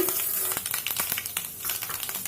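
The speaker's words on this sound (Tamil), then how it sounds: "எண்ணெய் காஞ்ச உடனே அதில் கடுகு, உளுந்தம்பருப்பு," Mustard seeds and urad dal frying in hot oil in a nonstick kadai on a gas stove, a steady close sizzle with scattered sharp crackles and pops throughout, no voices.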